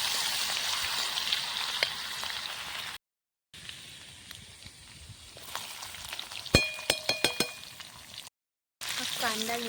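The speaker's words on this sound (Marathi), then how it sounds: "आता कांदा चांगला परतून घ्यायचा आहे।" Onion sautés in a pan, a moderate sizzling hiss broken by two short silences, with a few sharp clinks of a utensil against the pan near the middle.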